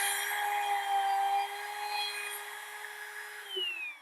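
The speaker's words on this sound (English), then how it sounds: "I like to set the router completely inside and center it in the hole. Hold it firmly and make a quick pass." A router spins steadily while cutting a hole in wood. The high, even whine holds for several seconds and dips slightly partway through, close and fairly loud, with no voices.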